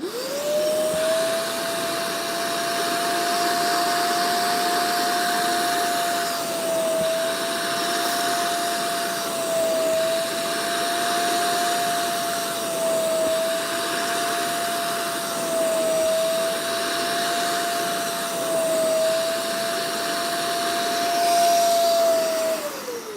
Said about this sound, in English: Now I'm going to turn it back on and extract here.